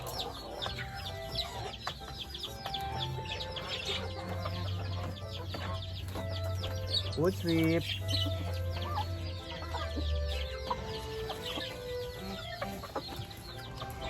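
Hungry chickens cluck and squawk on a rural farm, a dense flock close by with a low steady hum underneath and a voice speaking briefly.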